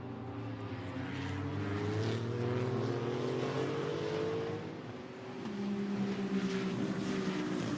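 A Maserati GT2 race car brakes and changes down through the gears into turn 2 at Hockenheim. Its engine pitch steps downward over several falling notes, then picks up again as it turns in, with another car audible around it.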